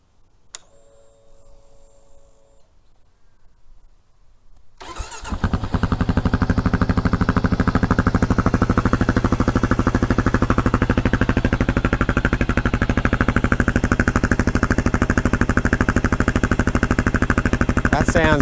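Kawasaki KLR650 single-cylinder motorcycle fitted with an FMF Powercore 4 exhaust and spark arrestor, a few quiet clicks before the engine fires and settles into a loud, steady, thumping idle close by.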